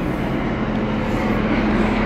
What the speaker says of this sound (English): Oh, and there's a helicopter, so that's part of it.